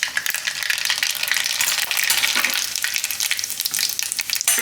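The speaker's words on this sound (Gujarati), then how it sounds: "તો તેલમાં આપણે નાખીશું થોડીક રાઈ" Mustard seeds and cumin hit hot oil and fry in a dense, loud crackling sizzle, with rapid popping and spattering that keeps up without a break.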